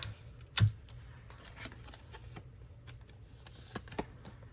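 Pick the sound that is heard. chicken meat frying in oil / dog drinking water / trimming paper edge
trimming paper edge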